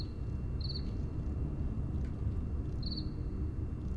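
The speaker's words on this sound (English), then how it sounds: "I'm hearing crickets" Two short bursts of high cricket chirps, about two seconds apart, over a steady low rumbling ambience.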